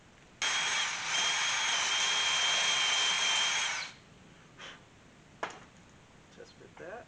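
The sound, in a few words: power drill drilling metal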